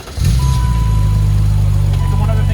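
A 1991 BMW M5 with a full Super Sprint header-back exhaust starts with a short crank, then settles into a loud, steady, close idle.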